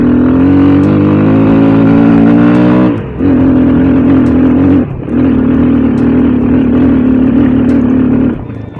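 A Scrambler 250 motorcycle engine revs loudly and steadily up close, with two brief dips in pitch before settling into a sustained roar that cuts off near the end.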